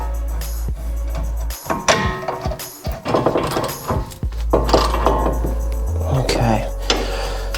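Metallic clinks and ratcheting as the bottom bolt of a Ford Focus Mk1 shock absorber is fitted and tightened, a series of close, irregular taps and clicks with some brief low knocks.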